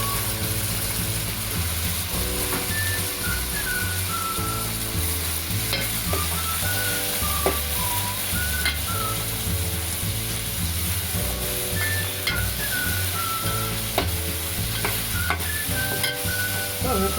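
Flat beans (ghevda) sizzle steadily in a pan for bhaji with tomato, while a spoon scrapes and stirs in a rhythmic, repeating pattern throughout, close and continuous with no talking.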